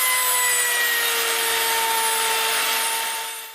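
The mouthpiece of a bamboo flute is drilled by hand, giving a close, steady, scraping abrasion with a faint ringing tone that trails off at the end.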